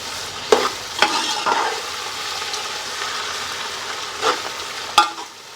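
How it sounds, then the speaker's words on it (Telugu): Grated raw mango frying in a pan for mango pulihora, a loud continuous sizzle with several sharp spatula knocks and scrapes against the pan as it is stirred. "మేమైతే మామిడికాయ తురుము వేయించుతామండి"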